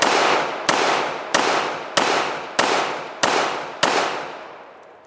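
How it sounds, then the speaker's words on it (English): A Standard Manufacturing HPX 1911 pistol fires seven loud, sharp shots, each one ringing out and fading before the next, evenly spaced about two-thirds of a second apart outdoors. "we're gonna go ahead and just take a few shots"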